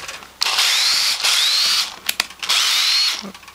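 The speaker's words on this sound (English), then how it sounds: "I'm not putting much stress on this drill at all" A power drill with a smoking switch whines in three loud bursts, each rising in pitch as it spins up, separated by short pauses with light clicks.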